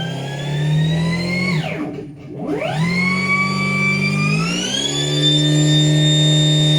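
Engine generator running under roughly a 100 amp electrical load, its loud droning whine dipping sharply, then climbing back and settling at a higher, steady full-throttle pitch, close up.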